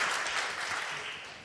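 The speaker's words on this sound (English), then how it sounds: "Let's give a round of applause" A conference audience at a cybersecurity event in Atlanta gives a short round of applause, fairly quiet and distant, tapering off over a second and a half.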